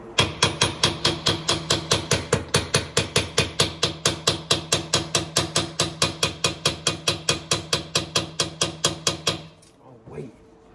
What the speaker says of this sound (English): I'm gonna tap on this gas line for my buddy.